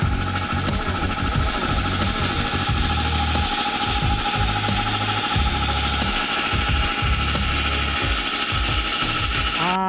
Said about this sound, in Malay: Itu motor itu untuk mengempam angin, mengempam udara masuk ke dalam kompresor